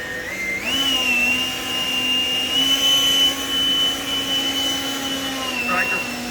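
A leaf blower starts up and settles into a steady low-setting whine and hum that runs continuously and fairly loud, used near a Malinois puppy during sound desensitizing training.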